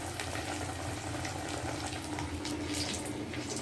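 Water running steadily from a tap over hands during a hand wash in a home kitchen while masala vadai are being shaped and fried, a continuous close hiss with a faint sizzle behind it.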